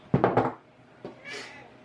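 A hungry cat gives a short meow near a person who is speaking, heard once amid brief household clatter.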